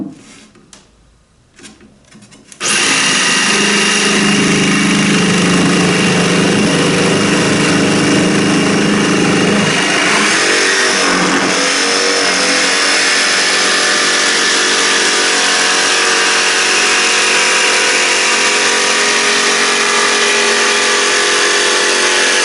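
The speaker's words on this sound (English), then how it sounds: "So I'm just going to cut it out with my jigsaw." A jigsaw cutting a wooden floorboard for a wooden dinghy build, starting after a few quiet seconds and then buzzing loudly and steadily for a long stretch with a brief dip midway, close and without talking.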